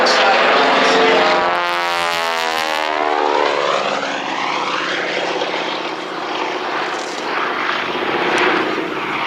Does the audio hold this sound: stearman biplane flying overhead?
yes